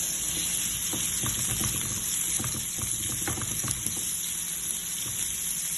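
Garlic and onion sautéing in very hot cooking oil in a pan, giving a steady, loud hiss and sizzle with faint crackles throughout and no talking.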